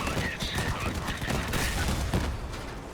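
Gunfire from weapons in a hard-raid build in a video game, a steady stream of rapid shots mixed with game sound effects at moderate volume, with no pauses.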